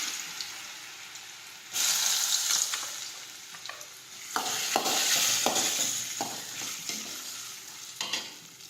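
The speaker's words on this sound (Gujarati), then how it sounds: "હવે આપણે તેમાં રાઈ અને જીરું નાખી દઈશું। હિંગ નાખીશું। સમારેલા બટેટા નાખીશું।" Mustard seeds, cumin, asafoetida and chopped potatoes fry in hot oil, with a soft hiss that jumps into loud sizzling bursts as ingredients go in, and scraping stirs in between.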